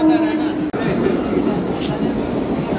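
A Mumbai slow local train bound for Andheri gives a steady, close rumble of rail noise, with people talking over it.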